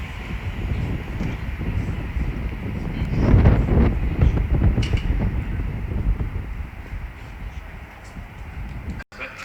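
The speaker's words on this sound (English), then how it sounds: "right there is the 1400 London Overground service from London Euston to Watford Junction" A London Overground electric train passing at Watford Junction, a broad rumbling roar that swells in the middle and slowly fades, with wind buffeting the microphone.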